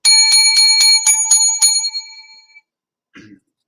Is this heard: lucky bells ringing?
yes